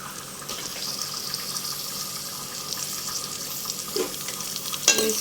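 Green chillies and onions sizzling in hot oil in a pan, a steady close crackling fry with a few louder pops and spatters near the end, no voices.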